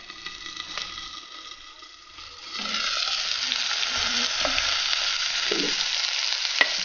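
Continuous crackling sizzle of mango curry frying in oil, growing louder after a couple of seconds, with occasional soft stirring clicks and no talking.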